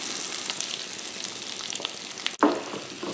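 Eggs poured into a hot pan with Doritos catch with a sudden loud sizzle burst after a steady frying hiss, close up and alone.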